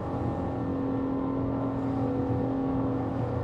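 Engines on a Ranieri International Next 370 SH boat run at around 5,000 rpm, giving a steady, droning mechanical whine with a constant low rumble and no voices.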